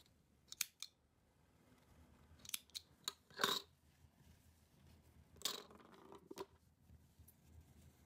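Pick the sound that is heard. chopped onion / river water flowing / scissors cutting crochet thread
scissors cutting crochet thread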